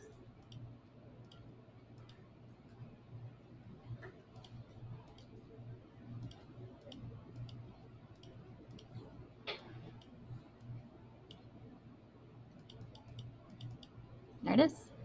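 Computer mouse scroll wheel turned while graphing logarithms, giving faint, rapid, evenly spaced ticks over a low steady hum, with a louder click near the end; a voice speaks quietly.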